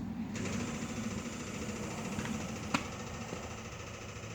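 A steady mechanical whir and buzz runs continuously, with a faint click partway through: an electric fuel pump humming nearby on a GM full-size truck as the key is switched on.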